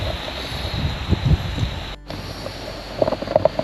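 Eas Waterfall in woodland on the Isle of Arran gives a steady rushing roar heard from a distance, mixed with gusts of wind buffeting the microphone and a brief dropout midway.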